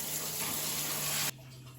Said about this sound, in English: We have hot water.